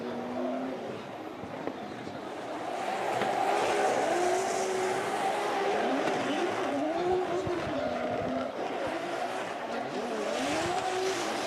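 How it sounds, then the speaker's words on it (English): A drift car on a lead run under heavy throttle at a snowy Japanese drift event, its engine wailing loudly and rising and falling continuously, with tire squeal and crowd or commentary noise mixed in throughout. "This is almost a perfect lead run here with a lot of throttle."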